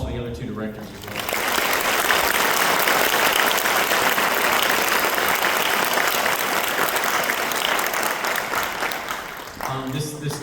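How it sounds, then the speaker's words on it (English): A school band concert audience at Lowndes County High School breaks into loud, sustained applause for the band directors. The clapping swells quickly and holds for about nine seconds, with brief talk just before and after. "So how about a round of applause for the other two directors as well"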